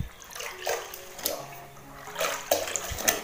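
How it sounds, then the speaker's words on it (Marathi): A floor is mopped with salt water: irregular splashes and drips as the cloth is dipped and wrung, with louder sloshes near the end, fairly close and quiet, and no talking. "आता म्हटलं पहिला लादी पुसून घेते."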